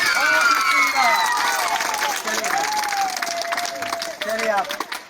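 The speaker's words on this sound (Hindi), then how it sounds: "एक बार जोरदार ताली बजाइए, जोरदार।" Schoolchildren in a government school classroom clap together in a dense burst of applause, mixed with excited children's voices and shouts that rise and fall before fading.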